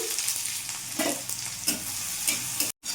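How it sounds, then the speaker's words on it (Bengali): Chopped onion frying in a pan with five-spice seeds and broken dried red chilli, a steady close sizzle with a few spatula stirs and scrapes, then a brief drop to silence near the end. "পেঁয়াজটা একটু ভাজা ভাজা করে নেবো যাতে পেঁয়াজের কাঁচা ভাতটা চলে যায়"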